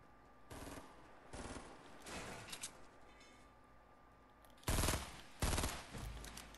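Bursts of automatic gunfire in a Fortnite match rattle in several volleys, the loudest two close together near the end, with quieter distant shots between.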